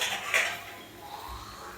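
A lid goes onto a pan of cluster beans cooking on a stove, with a short metallic clink near the start and faint kitchen clatter afterward.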